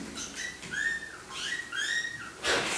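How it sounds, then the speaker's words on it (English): A small bird gives a few high, thin whistling chirps in a short, fairly close sequence, each call rising and falling, heard indoors without talk. "It's a bird."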